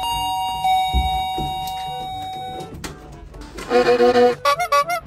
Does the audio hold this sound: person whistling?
no